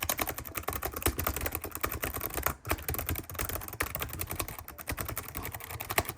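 Quick, steady typing on a quiet membrane computer keyboard, with soft muffled key presses tapping in a dense rapid rhythm at close range and only a brief pause partway through.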